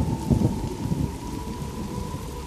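Heavy evening rain pours down over a Bengal village with rumbling thunder, a dense, steady roar of downpour that stays loud throughout, with a deeper rolling rumble near the start and no voices.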